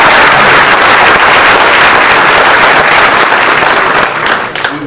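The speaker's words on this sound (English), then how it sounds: "If we can give a round of applause for County Commissioner Gary Edwards." A crowd at a community meeting in Tenino applauds County Commissioner Gary Edwards, with loud, dense clapping that holds steady for nearly five seconds and then begins to thin out.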